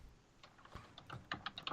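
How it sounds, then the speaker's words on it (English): Typing on a computer keyboard: a run of light, irregular key clicks that grows denser and louder toward the end, close to the microphone, with no talking. "Sorry, typing."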